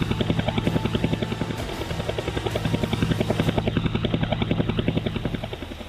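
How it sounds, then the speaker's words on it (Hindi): An Indian HAL-built Dhruv multi-utility helicopter at an air base throbs with steady rapid rotor chop and engine whine, loud and continuous, with no voices. "मेरे पीछे है ALS ध्रुव मल्टी यूटिलिटी हेलीकॉप्टर्स और ख़ास बात यह कि भारत द्वारा निर्मित है, HAL द्वारा।"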